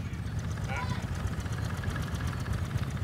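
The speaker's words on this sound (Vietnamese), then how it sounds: "Phụ nổ máy cho khách nghe cái luôn đi." Honda Airblade 125/150 scooter with a newly rebuilt Thai-style clutch assembly idling up close, a steady low rumbling engine note running throughout, with a brief faint higher tone partway through.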